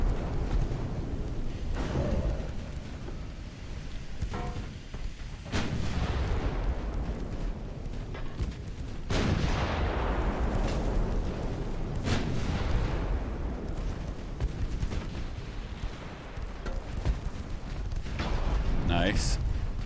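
Naval battle in the game Ultimate Admiral: Dreadnoughts, with repeated booming gunfire and torpedo impacts from destroyers, light cruisers and a battleship, heavy rumbling blasts recurring over a steady low roar while someone comments.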